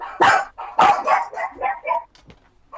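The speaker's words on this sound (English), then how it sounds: "Sorry about the dog." A dog barks several times in quick succession close to the microphone, loud sharp yaps tapering into softer, shorter barks, with no talk.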